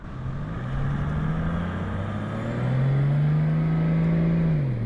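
A 4x4's engine revs on a desert island while the vehicle is stuck, the pitch climbing and holding high before dropping back, a loud, sustained strain close by.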